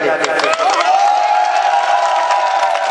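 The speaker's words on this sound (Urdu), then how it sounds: "ایک بار آپ اپنے لیے زوردار تالیاں بجا لیں" Audience at a mushaira poetry gathering applauds and cheers loudly, a dense burst of clapping and shouts running continuously over the short stretch, with a voice sustained above the crowd.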